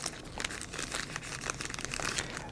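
A plastic bag crinkles close up, a dense run of crackling rustles that keeps going steadily, with no voices.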